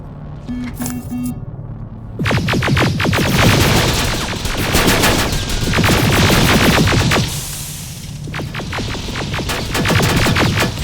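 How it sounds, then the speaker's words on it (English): Rapid automatic gunfire bursts in the video game Terminator Resistance, loud repeated volleys separated by short pauses, with a few faint beeps at the start. "Contact! Open fire!"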